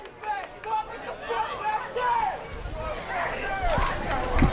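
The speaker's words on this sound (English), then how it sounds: "Listen to these maniacs cheering him on" A wrestling crowd at a CZW indoor event yells and chatters in a loud, overlapping mass of excited voices, with individual shouts rising above the din.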